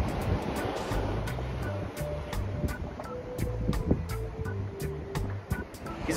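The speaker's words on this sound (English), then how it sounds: "his dinghy's getting destroyed by the surf" Ocean surf crashes around a small dinghy. Steady rushing wave noise and wind buffeting are broken by sharp splashes and knocks, with a faint low engine hum underneath.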